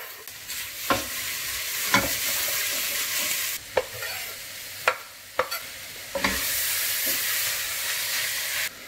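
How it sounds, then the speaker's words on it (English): Vegetables with shredded carrots and garlic sweat in a pot, a steady sizzle and hiss broken by several sharp stirring scrapes at irregular intervals, close and fairly loud with no talking. "now we will start sweating the veggies"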